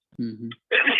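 A single close sneeze indoors: a short voiced intake followed by a sharp, breathy burst.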